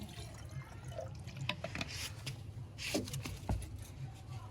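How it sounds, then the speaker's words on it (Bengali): Ganges water is poured into a ritual pot during a Bengali village Itu puja, with soft trickling and dripping, faint and close, plus scattered small knocks. "ঘটের মধ্যে গঙ্গা জল দেওয়া"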